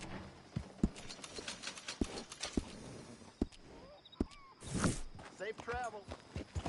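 A horse walks in Red Dead Redemption 2 with irregular, fairly close hoof thuds spaced across the scene, a brief snort or whinny-like burst in the middle, and speech alongside.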